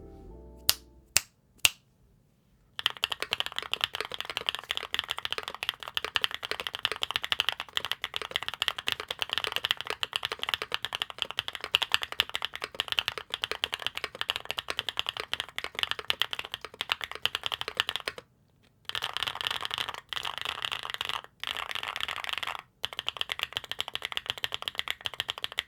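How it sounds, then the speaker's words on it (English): Rapid continuous typing on a GeonWorks F188 keyboard with aluminum plate, Zuoce Lavender linear switches and double-shot ABS keycaps, close and crisp with dense clacky keystrokes, a few isolated taps first and a brief pause partway through. "let's take a listen to these switches in the GeonWorks F188 with an aluminum plate"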